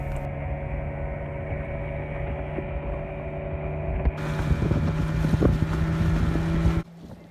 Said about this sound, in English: We rode in a traditional longboat along the lake for 45 minutes from the